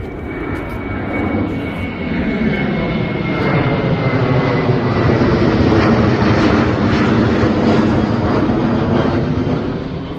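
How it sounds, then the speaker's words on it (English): Propeller or jet airplane passing overhead above a Norwegian hiking trail near an old crash site, a loud, steady broadband roar that swells gradually and holds for about ten seconds with no voices. "The airplane's coming overhead, knowing that an airplane crashed right here."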